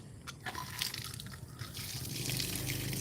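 Water running at a construction site in the Philippines, a steady broadband rush with brief louder splashes, continuous and fairly close throughout.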